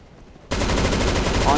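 Rapid automatic gunfire from an M4 rifle in the video game CS:GO starts abruptly after a quiet moment and continues in a loud, dense burst.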